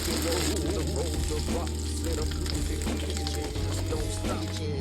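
Lamb sears in a hot stir-fry pan for a Xinjiang cumin lamb dish, a loud continuous sizzle and crackle filling the whole stretch with faint stirring scrapes.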